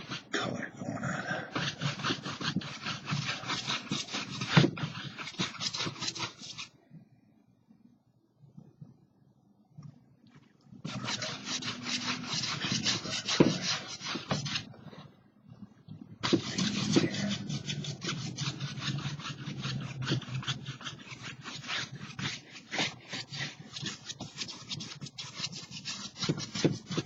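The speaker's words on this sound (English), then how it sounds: "Doing crisscross brush strokes, front back, crisscross." Paintbrush scrubbing crisscross strokes back and forth across a canvas, a close, steady rasping rub in long bursts broken by two short pauses, with no talking.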